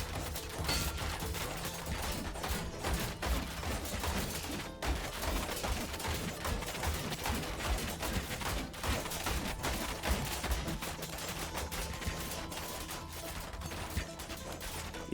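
Archers in the Thronefall video game loose arrows in a dense, rapid stream of overlapping impact and firing sounds, continuous and busy throughout.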